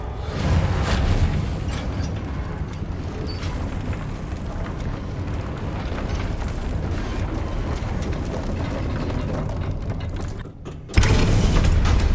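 In Hogwarts Legacy, a broken lift is mended by the Reparo spell, giving a long rumbling churn of grinding gears and creaking, clanking machinery. A brief dip is followed by a louder, steadier mechanical drone.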